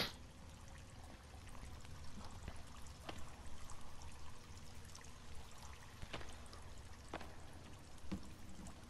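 Flowing water in a wooded area, a steady close wash of pouring, trickling stream sound running throughout with a few brief knocks, and no talking.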